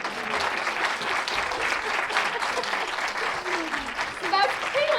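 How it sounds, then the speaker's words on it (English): An audience at Masire Teaching Hospital giving a standing ovation, continuous lively clapping with scattered voices mixed in, steady and fairly close. "Look, they're giving you a standing applause"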